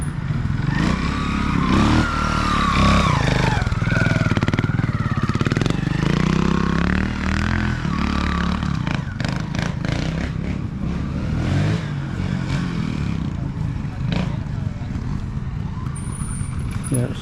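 A trials motorcycle rides over farm terrain at a club championship, a loud, continuous engine close by that rises and falls with throttle blips and clattering, while someone commentates over it.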